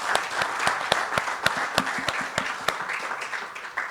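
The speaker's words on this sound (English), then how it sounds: "Let's give a big round of applause to our panelists" A conference audience applauds a panel of speakers at an academic gathering, producing a steady burst of many hands clapping, fairly close and loud, that gradually thins toward the end.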